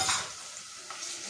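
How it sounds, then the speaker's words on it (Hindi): Ginger and garlic powder are stir-fried in a pan, giving a soft sizzle with a brief scrape of stirring near the start. It is short, steady and close, with no one talking. "इसको साथ में भून देगा"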